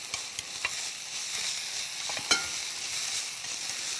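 Bellflower root (doraji) being stir-fried in a pan with a little added water, giving a steady soft sizzle with scraping and stirring clicks and one sharper utensil knock, close and alone.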